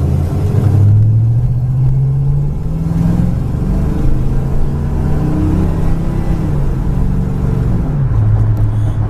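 A 1972 Oldsmobile Cutlass with a 350 Rocket 4-barrel V8 and turbo 350 transmission rumbles loudly through its exhaust, climbing in a few long revs and settling back to a deep burbling idle, close up with no talk.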